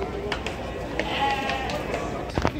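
Sheep and goats bleat at a busy livestock market. Several short, fairly distant calls are heard under steady crowd murmur and nearby talk.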